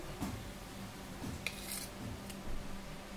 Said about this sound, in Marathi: आता आपल्याला प्लेटमध्ये काढून घ्यायचं आहे.